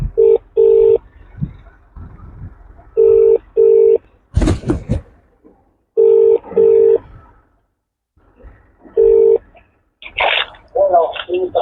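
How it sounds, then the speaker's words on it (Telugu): A telephone rings with repeated double-burst tones for an incoming call from a police station, several evenly spaced rings over the clip, with voices and background noise between them. "దగదర్తి పోలీస్ స్టేషన్ నుంచి మనకు కాల్ వచ్చింది."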